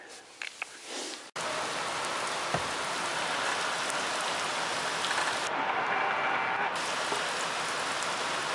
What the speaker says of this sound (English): Yes, that's hail.